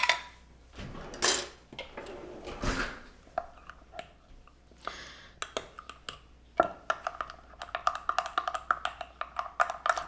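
A small spoon scrapes and clinks against a pot while stirring a flour mixture for chicken corn chowder, giving irregular close taps and scrapes with brief pauses.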